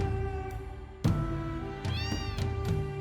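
A cat meowing in the video game Final Fantasy VII: several short, clear meows in quick succession over a quiet sustained musical background, with no speech.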